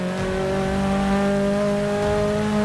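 Vauxhall Corsa VXR drag car launching in Forza 6, a loud sustained engine drone holding steady tones as it pulls hard, close and without talk.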